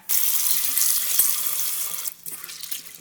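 Coix seeds being rinsed in a basin under a running tap, a loud steady gush of water with small splashes for about two seconds, then the flow drops to quieter trickling and dripping.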